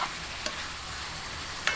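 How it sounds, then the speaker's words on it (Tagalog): Chicken sautés in a pan for paksiw na manok, giving a constant close, soft sizzle with a couple of brief scraping stirs, and no voices. "Hintayin lang po nating mag-isa-gisa at medyo mag-light brown yung ating chicken"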